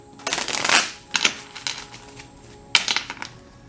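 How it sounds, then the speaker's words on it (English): Tarot cards shuffled in two quick riffling bursts, papery fluttering close by, then a short pause before another brief riffle as a card is drawn. "So let's pull an outcome card here."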